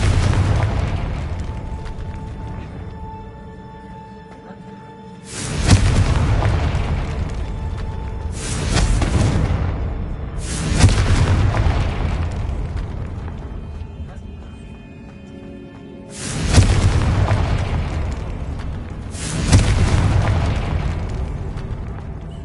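In the video game Hogwarts Legacy, the Confringo spell sets off about five heavy, booming explosions at intervals of a few seconds, each rumbling away afterward, while a voice calls out spells.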